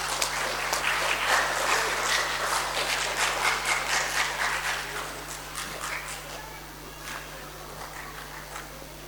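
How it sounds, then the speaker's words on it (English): Audience applause at a stage event, a dense wash of clapping that is loud at first and thins out over several seconds, with a steady low hum underneath. "Please give him a round of applause."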